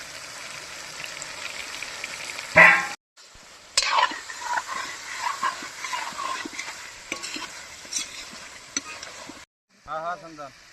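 Fried potatoes go into a sizzling meat curry in a hot pan, with a sudden splash and loud crackle, then steady stirring and frying hiss, close by; a voice speaks briefly at the end.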